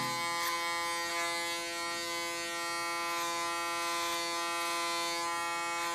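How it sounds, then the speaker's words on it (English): Electric hair clipper buzzing continuously and close by during a short summer haircut, a steady motorized drone with slight wavering as it moves through hair, with no talk. "use my clipper as a comb"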